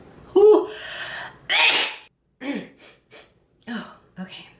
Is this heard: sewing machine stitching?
no